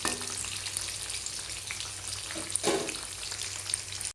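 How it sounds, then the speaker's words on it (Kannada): Soya chunks deep-frying in hot oil for Manchurian, a steady dense sizzle and crackle that runs the whole time, close and fairly loud, with a brief stir around the middle and no talking. "ಚೆನ್ನಾಗಿ ಗೋಲ್ಡನ್ ಬ್ರೌನ್ ಆಗಿ ಕ್ರಿಸ್ಪ್ ಆಗೋವರೆಗೂ ಫ್ರೈ ಮಾಡ್ಕೋಬೇಕು"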